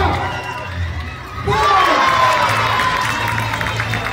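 An audience at a youth three-point shooting contest bursts into loud cheering, whooping and clapping that continues steadily, including children's shouts and high-pitched yells.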